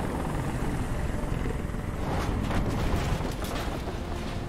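A helicopter in the video game Detroit: Become Human produces a loud, continuous rumbling rotor drone with a dense low thump, sustained throughout and close by.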